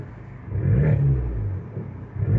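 A small Abarth 595 engine revs up from idle in neutral, holds a throaty rumble, then settles back down with a brief second blip near the end.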